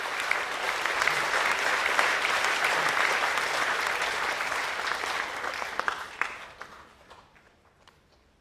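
Applause at a school academic awards assembly, sustained dense clapping from a large crowd that thins to scattered claps and fades out near the end.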